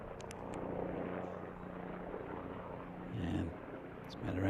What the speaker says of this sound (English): we see a helicopter goes past